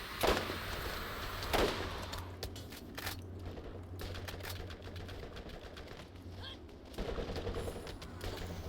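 Eridian alien guns firing in Borderlands, bursts of rapid crackling shots mixed with a steady low hum and scattered clicks, fairly quiet and close, with louder zapping blasts near the start and end.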